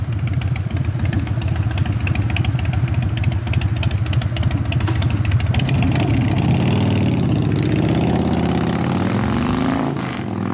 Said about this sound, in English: Harley Davidson, right?